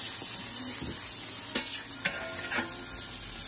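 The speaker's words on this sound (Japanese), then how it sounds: "なかなかこのもやし焼くパターンあんまないよ。" Yakisoba noodles and bean sprouts fry on a restaurant iron griddle, a steady close sizzle with light stirring and a couple of sharp metal spatula taps, no talking.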